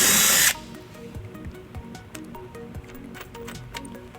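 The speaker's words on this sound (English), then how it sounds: "And then we'll drill our second hole." A power drill with a 3/16 bit bores a hole during a wiring harness install on a 2017 Chevrolet Impala. It gives one loud, steady half-second whir at the start, followed by quieter clicks and handling noises.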